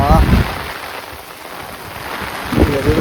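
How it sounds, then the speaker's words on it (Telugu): Heavy rain pours down steadily at an outdoor family function with a tent, a dense, loud hiss throughout, and voices break in briefly at the start and end. "వర్షం మాత్రం పొట్టు పొట్టు కొడుతుంది"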